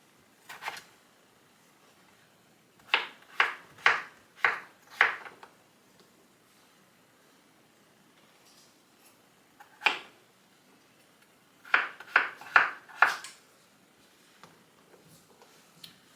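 Yukon Gold potatoes diced with a knife on a cutting board, crisp rhythmic chops coming in quick bursts of four or five with pauses between, close and clear, no talk.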